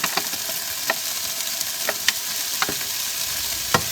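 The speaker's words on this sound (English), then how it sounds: "So I'm going to add the chorizo in now and let it cook for a few minutes." Chorizo fries in a pan with a steady, bright sizzle, close and fairly loud, broken by occasional sharp pops and crackles spaced a second or so apart; no one speaks.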